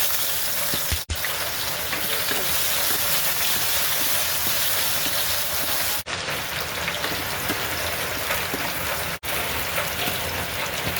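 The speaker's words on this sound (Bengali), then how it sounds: "পরিমাণ মতন পেঁয়াজ কুচি আর রসুন কুচি ডাইলে বাগার জন্য আমি দিয়ে দিচ্ছি" Chopped onion and garlic sizzle in hot oil for a dal tempering, making a steady, loud, hissing frying sound that continues without pause, broken only by a few brief dropouts.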